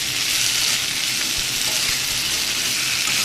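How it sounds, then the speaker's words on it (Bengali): A vegetable curry of poa fish, potato, pointed gourd and gourd stems fries in a pan, giving a steady, close, loud sizzle with faint stirring underneath. "আর এদিকে তরকারি, এটাকে ভালো করে ভেজে তারপরে ঝোল দেবো।"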